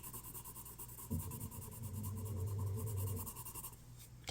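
Pencil drawing on paper, a steady close scratching and rubbing of graphite strokes that grows busier midway, heard alone without talk.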